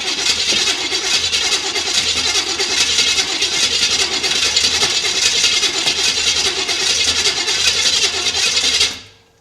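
A barn-find Corvette engine fires up and runs with a loud, continuous, rough rumble for several seconds before cutting off abruptly at the end.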